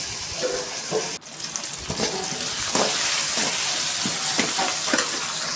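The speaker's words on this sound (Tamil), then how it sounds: "கட் பண்ணி வச்ச ரெண்டு தக்காளியை சேர்க்கணும் சேர்த்து நல்லா வதக்கி விடுவோம்" Chopped tomatoes sautéing in a hot pan for an eggplant and raw mango sambar: a steady, close sizzle with intermittent scraping stir strokes, no talking.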